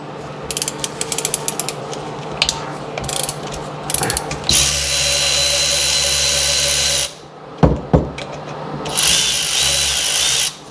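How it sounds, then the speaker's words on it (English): Ratcheting clicks and power-driver whirring from hex drivers removing the engine head bolts on a Seadoo RXDI, loud and close, with bursts of rapid ratchet clicks and a long sustained whir, then short knocks. "our next thing is to get the bolts off the head here"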